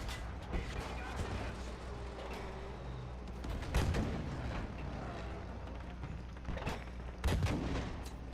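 Video game gunfire, quiet and intermittent: sharp single shots and short bursts scattered across the clip, with some louder cracks and faint mechanical clatter between them.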